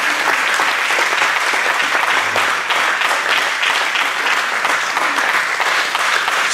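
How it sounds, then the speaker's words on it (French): A church congregation applauds together, a dense, loud and steady wash of clapping from many hands that fills the whole stretch without pause. "Acclamons le Seigneur notre Dieu"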